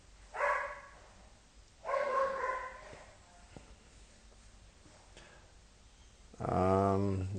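A dog barks in three separate bursts, each a loud harmonic yelp spaced about two seconds apart, the last one longer and deeper, with quiet background noise between.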